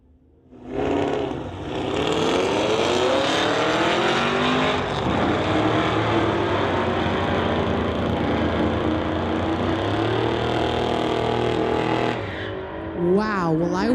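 A 2014 Chevy Camaro and a 2009 Cadillac launch in a street-legal drag race, engines roaring loudly and climbing through the gears for several seconds before fading, with a brief voice near the end.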